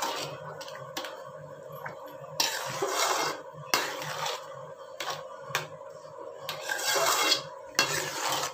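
A spoon stirs and scrapes semolina and sugar for kesari in a pan, in repeated close strokes that rise and fall in loudness, with no voices.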